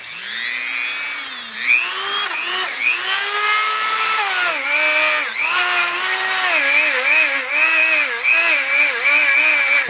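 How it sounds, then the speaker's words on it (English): A Dremel rotary tool cleaning gasket surfaces on a Motorcraft 2150 two-barrel carburetor, whining loudly and continuously, its pitch dipping and rising as the bit bears on the metal. "the Dremel tool because it doesn't beat things up as quick. So we want to get this all cleaned up in here."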